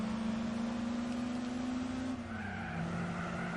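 A Ginetta G4's tires squeal in a long, sustained whine as it brakes hard in the Gran Turismo 4 racing game, the pitch dropping partway through over a steady engine drone.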